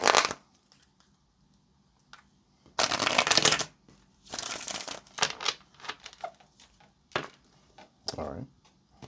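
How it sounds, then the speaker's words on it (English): Tarot cards are shuffled by hand in several bursts of crisp riffling and flicking, close and fairly loud, with brief pauses between them and quieter handling in the gaps. "Okay, let's get one more shuffle."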